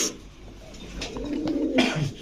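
Pigeons coo in a loft kept for sale, including Pakistani Teddy, Kamargar and Kaldam breeds, a soft low rolling coo rising near the end of a short stretch with faint background noise.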